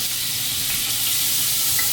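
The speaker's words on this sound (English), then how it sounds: "Now, you could be alarmed by the way that this is sizzling" Butter sizzles in a hot pan, a steady bright crackling hiss that stays loud and even from start to finish with no talking.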